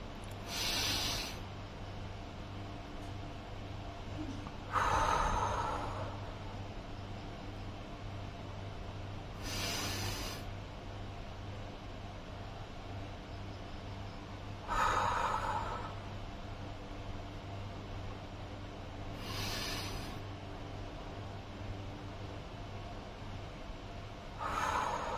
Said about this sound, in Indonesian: tarik nafas dalam-dalam 3 detik, tahan 3 detik, buang dari mulut 3 detik